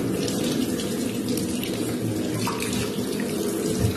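Tap water running and splashing steadily as Staresso Mirage coffee maker parts are rinsed under a faucet into a sink, a close, continuous hiss and gurgle with no talking.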